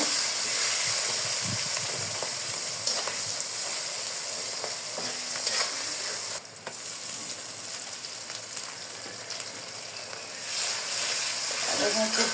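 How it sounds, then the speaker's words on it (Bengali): Onion fries in a wok of oil that was already used for frying fish, giving a steady, dense sizzling hiss throughout with occasional stirring scrapes. "ভালো করে পেঁয়াজটা আমি ভেজে নিব"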